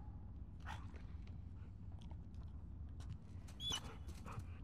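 A dog plays with a toy in The Last of Us Part II, chewing and mouthing it with soft whimpers and faint squeaks over a low ambient hum, quiet and with nobody talking.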